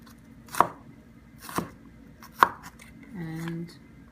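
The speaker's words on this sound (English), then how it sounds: "Chop up your onions" Kitchen knife chopping onions on a cutting board for a meatball sauce, three separate sharp chops about a second apart, close and crisp, followed by a short low tonal sound at the end.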